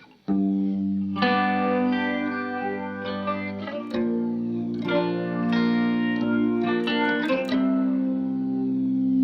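Electric guitar chords played through a Walrus Audio Fundamental Phaser pedal ring out with a swirling, sweeping modulation effect, sustained and layered, with sharp pick attacks between held notes.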